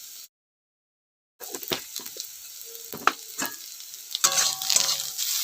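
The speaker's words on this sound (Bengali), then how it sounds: "আমি কষিয়ে নেব পেঁয়াজটাকে।" Sliced onions with turmeric, chilli powder and salt sizzle in a pan while being stirred, a soft crackling hiss with scraping stirs after a brief silent gap, closer and louder toward the end.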